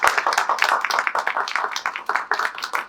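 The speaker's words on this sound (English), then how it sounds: "Round of applause for our panelists." A small audience at a university panel on first-generation students claps for the panelists, brisk close-up hand claps forming a short, lively burst.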